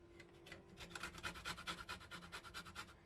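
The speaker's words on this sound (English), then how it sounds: "Now first, we're gonna zest the lemon skin." Lemon skin is zested on a grater for a lemon cake: quick, rhythmic rasping strokes, close and fairly soft, repeating evenly with no talk.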